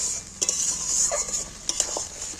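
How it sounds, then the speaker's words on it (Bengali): A spoon stirs fish roe curry in a pot as it comes to a boil, with a bright bubbling hiss and a few quick scraping strokes close by. "এইটাকে একটু নেড়ে ফুটিয়ে দিই।"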